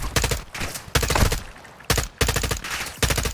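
Video game gunfire from Call of Duty: Modern Warfare 2, with loud, close automatic bursts in several rapid volleys separated by short gaps.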